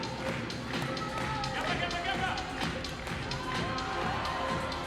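A crowd cheering and shouting for climber Rei Sugimoto at La Sportiva Legends Only 2018, a steady indoor roar of voices with whoops and claps throughout.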